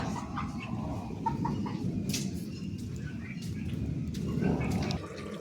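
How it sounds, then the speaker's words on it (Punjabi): Chickens cluck softly nearby over a low, rumbling background noise, with scattered short calls. "ਆਪਾਂ ਕੁੱਕੜ ਕਰਤੇ ਬੰਦ"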